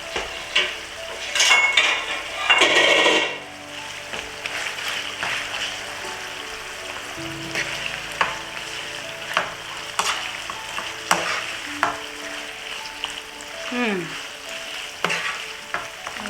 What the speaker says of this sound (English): Give it a stir and see if it has a good color